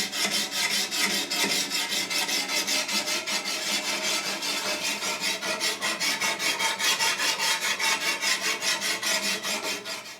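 A katana blade scraped back and forth across a 1000 grit sharpening stone gives a steady, loud rasping with quick regular strokes that continue for the whole stretch, close up and with no voices.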